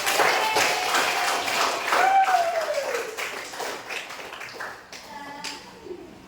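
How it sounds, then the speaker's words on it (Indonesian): A classroom of students claps together at the end of a lesson, a moderate burst of hand claps mixed with a few young voices, thinning out toward the end. "Tepuk tangan untuk kita semua."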